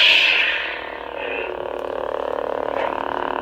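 Custom lightsaber with a 28mm speaker igniting with a bright, sweeping electronic whoosh that settles into a loud, steady buzzing hum, close and alone.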